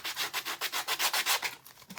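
A gator sanding tool rasps in quick rhythmic back-and-forth strokes, about a dozen of them, roughing up the edges of a wooden snowman hat, close and fairly loud with no talking.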